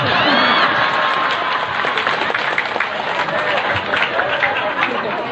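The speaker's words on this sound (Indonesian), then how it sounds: "Maksudnya tepuk tangan." A religious gathering's audience bursts into dense clapping mixed with crowd chatter and a few cheers, loud and close throughout, with voices talking over the applause.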